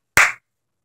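One sharp, close hand clap aimed at switching off a clap-activated light, a single crisp smack that decays quickly into silence.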